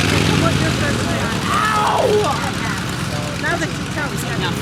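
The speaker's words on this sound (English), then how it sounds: "As we prepare to take off the most famous airplane from World War I." Engine of a World War I triplane running at an air show in Rhinebeck, New York, as it prepares to take off: a steady, loud, rough rumble with voices and crowd noise over it.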